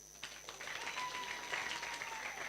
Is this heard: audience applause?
yes